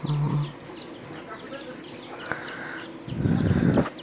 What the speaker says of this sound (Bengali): আরেকটা মুরগি আসছে, খাবার খাচ্ছে